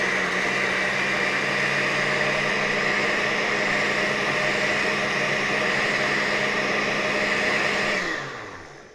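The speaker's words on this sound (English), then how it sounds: "Just pop it in the blender and blend it," A blender whirs steadily at high speed for about eight seconds, blending banana walnut protein muffin batter, then winds down near the end as it is switched off; loud and close, with no talking.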